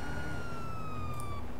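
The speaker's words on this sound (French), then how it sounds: "Couper la sirène" Police car siren in GTA 5 during an LSPDFR patrol, a steady wailing tone sliding slowly downward, loud and continuous over a constant background hum, with no talking.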